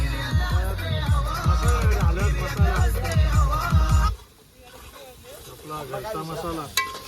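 Ginger-garlic paste hits hot mutton in a pot by a riverside picnic, giving a loud, dense sizzle with stirring scrapes, then dropping to a quieter simmer with voices talking in the background.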